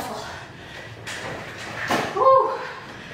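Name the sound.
dog pushing open a door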